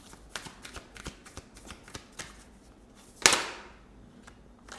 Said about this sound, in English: I will keep shuffling because that also felt a little bit iffy.